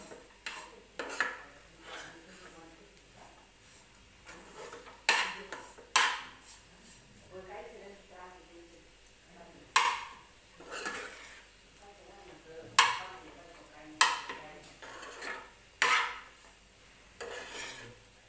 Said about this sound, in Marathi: आणि आता छान असं मिक्स करून घेते मी